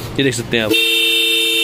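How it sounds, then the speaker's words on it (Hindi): An aftermarket horn on a modified Hero Splendor BS6 motorcycle blares in one loud, sustained, steady tone right after someone speaks briefly, ringing close and clear until the end. "इसके अंदर लगे हैं दो प्यारे प्यारे हॉर्न्स जो काफ़ी अग्रेसिव है देखने में"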